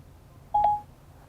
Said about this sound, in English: press and hold the talk button on the steering wheel until you hear a tone